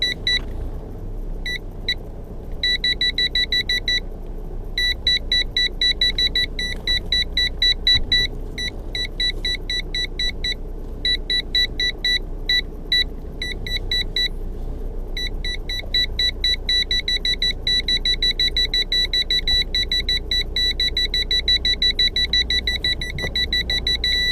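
An aftermarket car parking sensor kit beeps in fast repeated high-pitched bursts while detecting a bush beside the car, with a steady low vehicle rumble underneath and brief pauses between beep runs.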